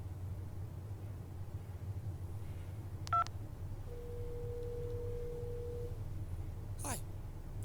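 A phone number is dialed on a mobile phone: a short burst of stacked keypad tones, then a long steady ringback tone over a constant low hum, with a brief sweeping chirp near the end.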